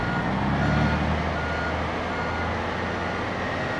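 A truck backing up in a Squid Game episode, its reversing alarm beeping steadily over a loud, dense rumble of engine and surrounding noise, with no speech.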